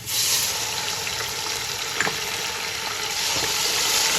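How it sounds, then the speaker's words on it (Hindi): Garlic-ginger paste and onions fry in hot oil with a steady, loud, close sizzle and occasional stirring scrapes, for aloo matar pulao. "इसे भी अच्छे से फ्राई कर लेती हूँ।"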